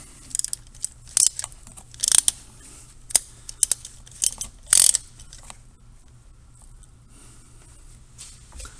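A ratchet loosens tight, over-torqued valve cover bolts on a VW Golf Mk4 TDI, giving sharp irregular clicks and short bursts of clicking in the first half, then fading to quieter handling sounds.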